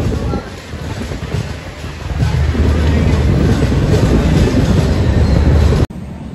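Steady loud rumble and rattle of a train departing Kalyan station, building as it picks up pace, continuous wheel noise until an abrupt cut near the end.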